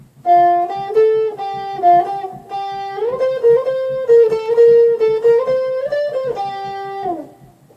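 A clean electric guitar plays a short melodic phrase from a Regular Show song, sustained single notes on the second string gliding between pitches over a soft rhythmic backing, then fades out.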